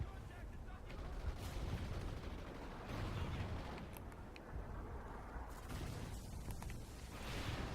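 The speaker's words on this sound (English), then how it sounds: "Friendly Trinity rocket inbound." Trinity rocket strikes exploding in the online shooter Call of Duty: Ghosts, a dense, continuous rumble of blasts and gunfire at steady loudness throughout, with faint talk underneath.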